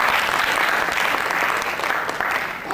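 Sustained applause from a theatre audience after a call to congratulate someone on stage, dense and steady clapping that fills the whole stretch at close range.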